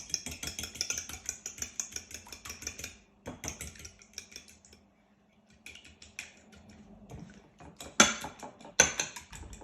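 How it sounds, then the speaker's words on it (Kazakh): Quick rhythmic clinking of a fork beating against a bowl, in several bursts with short pauses between them. "Вилканың көмегімен араластырамыз."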